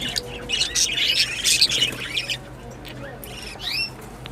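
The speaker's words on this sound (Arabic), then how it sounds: "ده حسون،" A goldfinch gives rapid, bright chirps and twittering calls in bursts up close, with a short pause and then a few more high notes, over a faint background hum.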